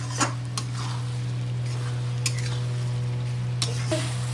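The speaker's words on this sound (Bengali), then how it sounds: "এই আলুটা দিয়ে আর একটু কষাবো" Potatoes are stirred into a spice paste for a Bengali-style chicken curry, a continuous gentle sizzle under a steady low electrical hum, broken by a few crisp clicks of a utensil against the pan.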